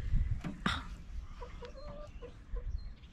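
Several chickens cluck softly and repeatedly nearby inside a coop, with a few sharper squawks and shuffling noises in a quiet enclosed space.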